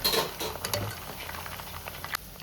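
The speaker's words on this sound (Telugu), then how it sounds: "మంటని అడ్జస్ట్ చేసుకుంటూ ముక్కలు మాడకుండా చక్కగా వేపుకోవాలి" Chicken pieces fry in oil for dragon chicken, a close, dense crackling sizzle with faint ticks and pops, fairly steady and without talk.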